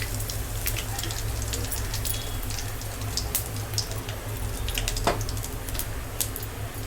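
Cinnamon, fennel and star anise fry in oil for a chicken pepper curry, giving a continuous close crackle and sizzle like pattering rain, steady throughout with a low hum beneath.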